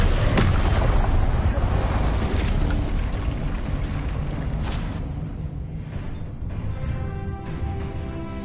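Confringo spell explosions in Hogwarts Legacy, loud booming blasts over a dense rumbling game soundscape that fades somewhat toward the end, with some speech present.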